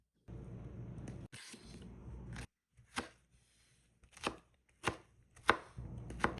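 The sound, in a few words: chopping cauliflower finely with a knife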